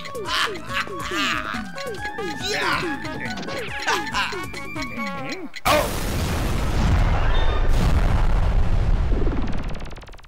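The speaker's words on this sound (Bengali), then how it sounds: "বোম ফেটে গেছে স্যার" A cartoon bomb goes off in the Motu Patlu animation: after a stretch of bouncy, sliding cartoon tones, a sudden loud blast breaks in and roars on as a rumbling, crackling wash for several seconds.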